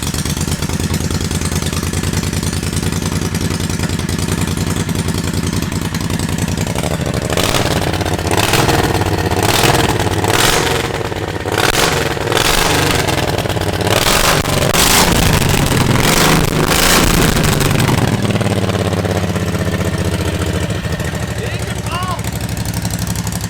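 A King Midget microcar engine runs steadily after an engine swap, a loud continuous idle with a rougher, revving stretch in the middle, while people talk over it.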